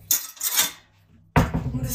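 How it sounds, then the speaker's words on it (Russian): Dishes clink and clatter in two bursts, a plate set down with a crisp ceramic knock after a brief pause. "Мы достаем тарелку."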